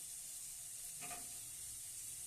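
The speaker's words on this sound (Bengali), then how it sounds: "পনিরটাকে দিয়ে দিলাম। এটাকে অল্প লাল করে ভেজে নেব" Paneer cubes fry in a pan until lightly browned, giving a steady close hiss of sizzling oil with a brief louder crackle partway through.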